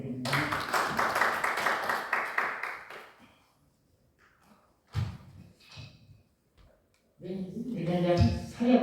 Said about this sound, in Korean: 하나님께 영광을 박수드립니다